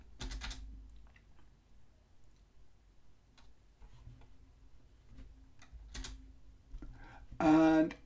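Soft, sparse clicks of computer keys being typed in quiet bursts, ending with a brief louder tone.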